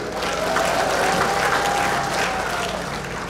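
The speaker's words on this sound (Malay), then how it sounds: "Tepukan untuk sidang hadi." Applause from a crowd at a RELA community event in Teluk Intan, Malaysia, a loud sustained burst of many hands clapping together, steady throughout with a faint tone beneath.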